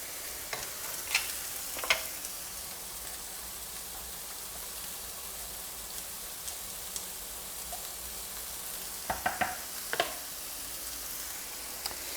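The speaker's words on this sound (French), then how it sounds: "On va commencer à mettre le bouillon de légumes." Vegetable broth added to a coquillettes pasta risotto, leaving a soft steady simmering hiss across the pan, faint and close, with occasional sharp clinks and scrapes of a utensil against the pot.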